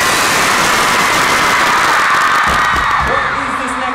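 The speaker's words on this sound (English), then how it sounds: "let me hear you scream" Concert crowd at a show in Houston screaming loudly and continuously, a dense roar of high-pitched cheering that fills the whole stretch without letting up.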